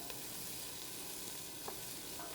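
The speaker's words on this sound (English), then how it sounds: "We're sauteing our mirepoix with our shrimp shells and some shrimp bisque I got here." Mirepoix and shrimp shells sautéing in a pan for shrimp bisque, a soft, steady sizzle with faint stirring, quiet and unbroken with no voices.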